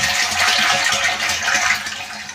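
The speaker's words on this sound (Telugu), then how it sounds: "ఇది క్లియర్గా వాటర్ వస్తుంది" Water from a water purifier outlet runs in a steady hissing stream into a tank, close and fairly loud, alone without talk.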